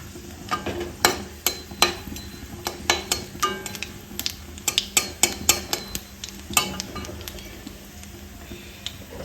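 Black cumin seeds and dry red chilies fry in a little hot oil, giving a faint sizzle under repeated sharp clicks and scrapes of a utensil against the pan.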